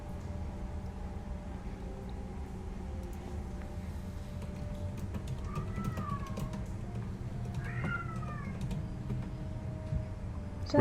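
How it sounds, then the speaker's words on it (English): A cat meows twice, rising and falling mews at moderate distance over a steady low hum and background murmur, with faint clicks and taps scattered through. "Renaissance cat's in here somewhere."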